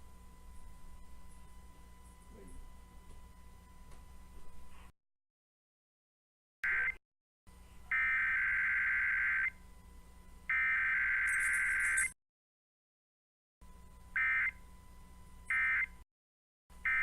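An Emergency Alert System test tone sounds in steady bursts of loud, piercing two-tone beeping, separated by brief silent gaps after a quieter opening stretch.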